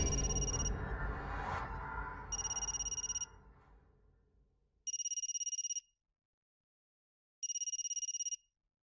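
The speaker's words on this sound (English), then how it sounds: "Yo learns that they are when she speed dials Omi's phone and hears it reverberate throughout the gloom." A phone ringtone from the visual novel Saya no Uta plays in three clean, evenly spaced bursts of bright electronic tones. The first burst rises over a low, murky ambient drone, and the next two sound alone against silence.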